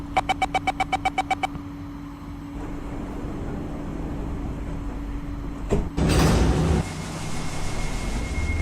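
In the OpenBVE train simulator on an Airport Express line, a rapid series of electronic chime beeps, then a steady hum, a brief pneumatic hiss, and a loud sliding thud as the train doors close.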